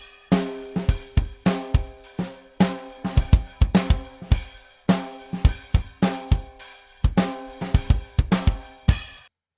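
Full acoustic drum kit playing unprocessed, with loud, close hits of kick, snare and cymbals in a steady groove, each strike ringing briefly before the next, with no speech.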